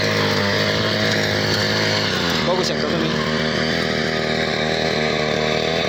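A 3 hp mini weeder engine with a two-foot rotor drones steadily at close range in a cotton field, with a buzzing, throbbing tone while someone talks briefly over it.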